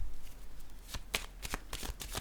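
Playing cards riffle and snap in a series of quick, sharp bursts as they are shuffled and handled for a magic trick, close and crisp against a quiet room.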